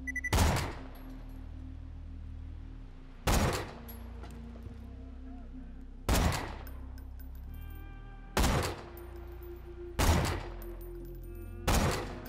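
Gunfire in the video game Borderlands 2, with six sharp loud shots spaced a few seconds apart, each with a brief ringing tail over a low in-game hum.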